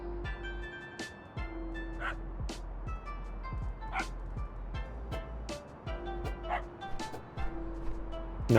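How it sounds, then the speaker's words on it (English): Dogs barking in the video game Little Kitty, Big City, repeated sharp yips and barks at irregular intervals over a low steady game hum and music tones. "dogs need to shut the fuck up"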